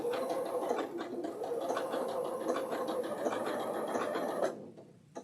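A sewing machine running a decorative stitch on wool applique hums steadily and fairly close for about four and a half seconds, then stops abruptly.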